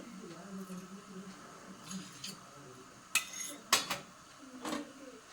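A metal spoon scoops jaggery with several light clinks and scrapes against a vessel while ginger tea is being made, mixed with faint kitchen noise and low background talk.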